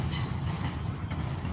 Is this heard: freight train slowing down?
yes